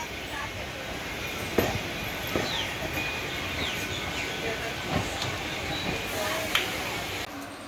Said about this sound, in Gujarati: ખૂબ જ સરસ મજાની આ મેમુ ટ્રેન.